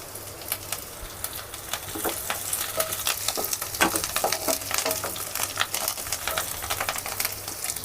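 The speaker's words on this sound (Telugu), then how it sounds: "ఉల్లిపాయలు బాగా ఫ్రై అయ్యాయి కదా అందులో కొంచెం కరివేపాకు వేసుకోవాలి" Curry leaves dropped into well-fried onions crackle and sizzle in hot oil, a dense run of sharp spitting pops with stirring scrapes, close and steady.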